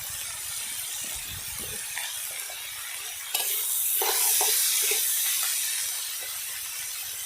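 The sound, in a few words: cumin seeds sizzling in hot oil, stirred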